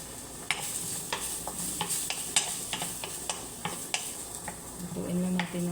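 Mushrooms sauté in a pan for chicken alfredo pasta, a soft sizzle punctuated by a regular series of sharp utensil taps and scrapes against the pan, fairly quiet with no talking.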